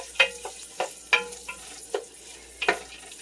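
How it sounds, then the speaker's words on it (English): Vegetables for potato soup sauté over medium heat in a pan, with a faint sizzle beneath sharp intermittent scrapes and clinks as the food is stirred, roughly a handful of distinct stirring strokes. "And this is going to saute for about 5 to 10 minutes on a medium"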